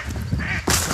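Ducks or geese quacking beside a stream, a short honking call followed by a louder rush of noise, close and brief.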